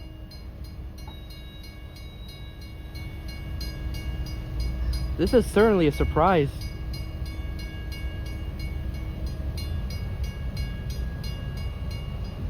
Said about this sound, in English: In a shocking twist of events, the train has come to a stop.